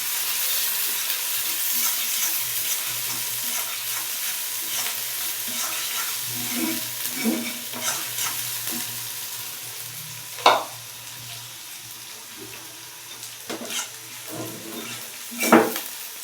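Taro stolons (loti) fry in a kadai with a steady sizzle, broken by scattered scrapes and stirring knocks, two of them sharper and louder, with no one talking.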